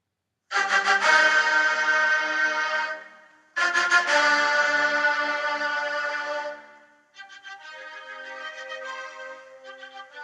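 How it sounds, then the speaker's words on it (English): A sad-sounding musical passage in a minor key comes in three phrases, two strong sustained chords separated by a short gap and then a softer, thinner section, with no voices over it. "While something minor has this kind of sound."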